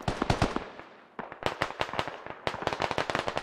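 Heavy gunfire in a SquadOps military shooter match: rapid bursts of sharp cracks in quick succession, a short lull, then sustained volleys continuing at moderate distance, with no voices.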